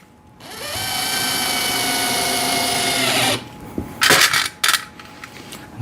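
A power drill driving screws into a rotating shoe rack tower whirs steadily for about three seconds, then winds down, followed by several short metallic clinks and rattles close by.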